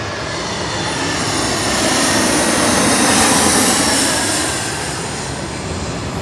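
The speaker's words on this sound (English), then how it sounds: "My first time ever catching an airplane going around." A jet airliner executing a go-around at LAX roars steadily overhead, a loud broadband engine rush that swells to a peak mid-way and then eases slightly as it passes, with no voices.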